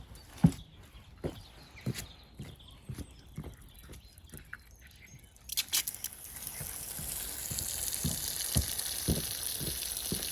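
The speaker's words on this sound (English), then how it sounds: "if I turn the water on again" Water gushes out of a row of holes drilled along a demonstration pipe in an English country garden, a steady hissing spray that swells in from the midpoint after a few sharp knocks and taps.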